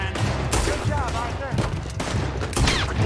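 Rapid gunfire from the video game Red Dead Redemption 2, a dense fusillade of shots and bursts running nearly continuously and loudly throughout, with a voice talking under the barrage.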